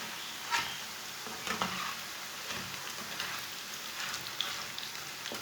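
Raw banana fries bubble in hot oil with a continuous crackling sizzle, close by and steady, with a few sharper pops. No voices are heard.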